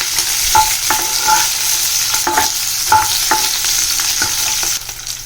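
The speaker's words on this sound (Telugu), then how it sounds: "ఇలా బాగా వేయించుకోవాలి" Cumin, coriander seeds and green chillies fry in a pan, with a steady hiss and sizzle under repeated scraping stirs of a spoon, close and loud with no talking.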